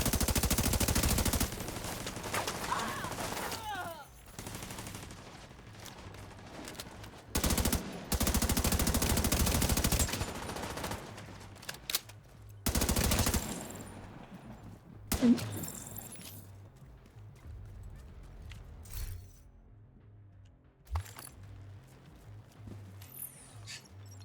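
Video-game turret gunfire sounds in long rapid automatic bursts, loud and dense, broken by quieter gaps with scattered thuds and softer shots.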